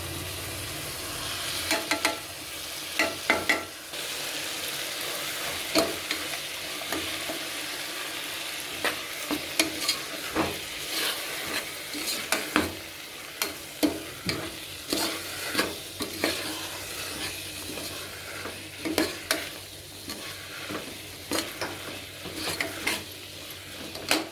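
Palav being stirred and fried in a pan with coriander powder, red chilli powder, garam masala and turmeric, giving a steady sizzle broken by repeated sharp scraping strokes of the spoon, close and continuous with no talk.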